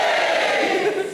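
A live comedy audience cheers loudly in a continuous, dense crowd roar that holds steady for about a second before easing slightly at the end.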